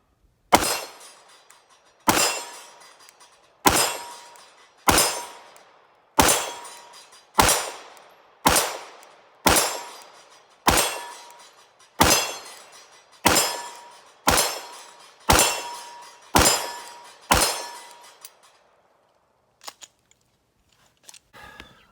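Fourteen sharp pistol shots ring out during live-fire training with a Mantis X10 Elite, evenly spaced about every 1.2 seconds, each a loud crack with a short decaying tail, followed by a few faint clicks.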